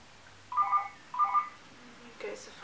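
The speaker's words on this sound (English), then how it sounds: "Goes the phone." A telephone rings indoors in two short warbling bursts of electronic trill, evenly spaced and moderately loud, followed by a faint thump and breathy noise.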